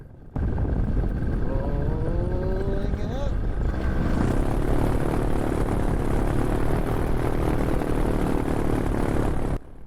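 A paramotor's engine drones steadily in flight while someone talks over it, then the throttle opens and the propeller roar swells into a louder, sustained buzz that holds until it stops at the end.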